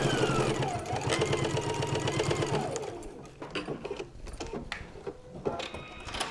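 A domestic sewing machine runs a diagonal stitch while making a notebook holder, its fast, even mechanical clatter sustained close by for about three seconds before giving way to quieter intermittent handling noises.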